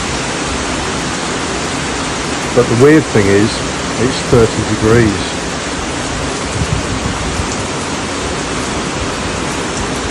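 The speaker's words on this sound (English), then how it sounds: "It's raining so hard." Heavy warm tropical rain pouring in Trinidad during the rainy season, a dense steady hiss filling the whole stretch, with someone talking briefly over it partway through.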